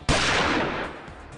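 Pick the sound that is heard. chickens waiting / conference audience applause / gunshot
gunshot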